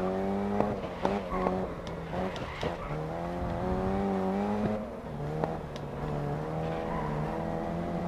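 An open-wheel race car drifting in the racing game GRID Legends, with a high whining engine note rising and falling through gear shifts, mixed with tire squeal and skidding, close and continuous.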